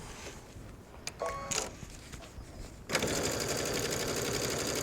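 A sewing machine stitches a welt pocket, with a few quiet clicks and a brief start before settling into a loud, steady, fast-running whir.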